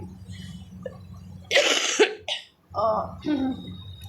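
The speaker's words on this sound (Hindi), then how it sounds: "पता नहीं कब ये खांसी सही होगी।" A person coughs and clears their throat several times in harsh bursts, mixed with brief speech and breathing, close to the listener.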